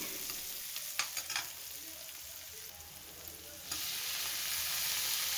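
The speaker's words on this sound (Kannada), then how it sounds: "ಟೊಮೆಟೊ ಕಟ್ ಮಾಡಿರೋದನ್ನ ಸೇರಿಸ್ಕೊಂಡು ಅದನ್ನು ನೀಟಾಗಿ ಚೆನ್ನಾಗಿ ಫ್ರೈ ಮಾಡ್ಕೊಬೇಕು" Tomatoes frying and being stirred in a pan for a bitter gourd gojju, a steady close sizzle with a few soft scraping stirs, growing louder near the end, no voices.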